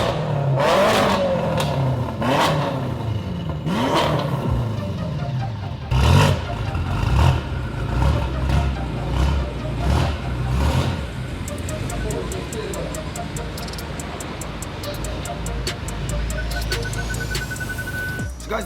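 Mercedes E55 AMG fitted with an upgraded supercharger pulley, revving in repeated sharp bursts with rising and falling engine pitch, close and loud, with people talking over it and a clattering idle in between.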